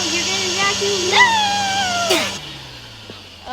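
A video-game vacuum sucks up a tiny player character, giving a rising whine and whooshing pull that swells and then cuts off abruptly, heard without speech.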